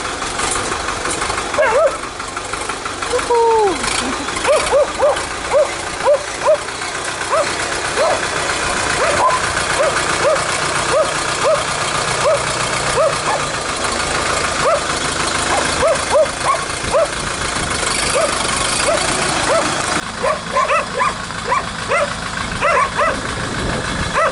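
A DMTZ 544X minitractor engine runs steadily in a yard, a constant mid-level drone with knocking, while a dog barks repeatedly nearby in short yips and people talk.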